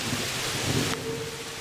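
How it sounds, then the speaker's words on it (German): A low rumble of thunder rolls under steady rain during a storm outdoors, the rumble swelling midway and then fading back into the hiss of rainfall. "Donner wird auch nicht besser"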